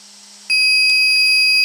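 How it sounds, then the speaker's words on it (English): A Sense Innovations ESS-AIR sound system gives a single sustained electronic beep during calibration, starting abruptly and holding steady, clear and loud with no talk over it. "You hear a beep sound,"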